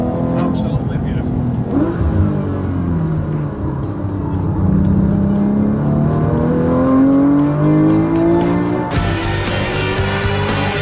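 A Porsche 911 GT3 with a 435-horsepower engine revs and accelerates hard and close, the pitch climbing through the gears over about ten seconds before a sudden break into broadband noise.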